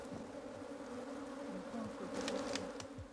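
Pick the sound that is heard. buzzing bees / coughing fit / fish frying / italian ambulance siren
buzzing bees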